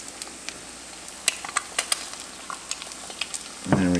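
An egg frying and crisping in a hot cast iron skillet: a faint steady sizzle dotted with sharp spitting pops, followed near the end by a brief rustling scrape.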